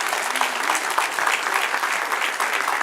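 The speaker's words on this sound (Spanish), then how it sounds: "Dale un aplauso, Señor" Dense, loud applause from a church congregation during a Bible class, continuous close clapping throughout about three seconds.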